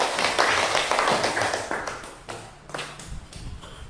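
Clapping from a classroom of students applauding a classmate, a dense, fairly close patter of hand claps that thins out and fades toward the end, with faint voices underneath.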